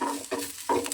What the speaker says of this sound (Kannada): ಜೀರಿಗೆ ಸ್ವಲ್ಪ ಈ ಬಾಣಲಿ ಕಾವಿಗೆ ಚೆನ್ನಾಗಿ ಫ್ರೈ ಆಗುತ್ತೆ.